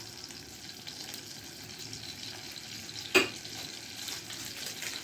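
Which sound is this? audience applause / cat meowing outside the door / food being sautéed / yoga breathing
food being sautéed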